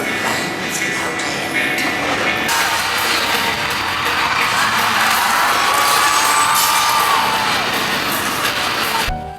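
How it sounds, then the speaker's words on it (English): Crowd screaming and cheering at the Final Fantasy Fan Fest opening ceremony, a dense, loud, continuous roar of many voices filling the hall throughout, with occasional higher shouts rising above the mass. "The atmosphere, the graphics, the crowd was screaming"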